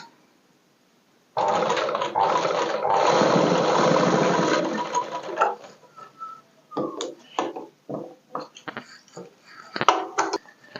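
A sewing machine stitches elastic onto a party wear frock, running in one loud, steady whirring stretch for about four seconds before breaking into short, stop-start bursts of stitching.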